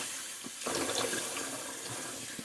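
A bathroom tap runs steadily as a man rinses his face after a shave. The close hissing stream of water continues throughout, with a few small splashes, and no one speaks.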